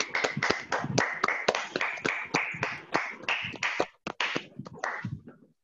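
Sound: online debate participants clapping

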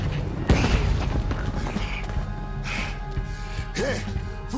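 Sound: cannon firing in the video game Red Dead Redemption 2

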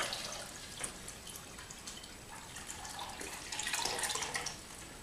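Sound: water draining from ozone washer outlet pipe into basin

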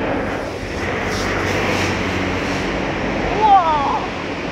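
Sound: water being thrown at a car wash

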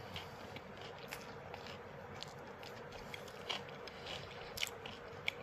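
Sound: biting into a KFC Zinger classic chicken burger

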